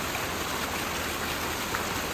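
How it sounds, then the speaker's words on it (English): Steady, dense rain patters continuously close by, a uniform hiss of drops with no voices. "problem is it's raining"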